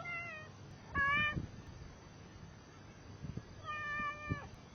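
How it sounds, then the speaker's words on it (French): A small cat meows twice, faint and close, the cries spaced a few seconds apart over quiet room tone, with a brief soft word from a person in between. "Il y a un petit chat."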